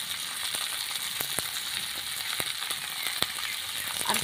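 Taro and onions frying in a pan give a continuous hissing sizzle, with scattered sharp crackles and pops throughout.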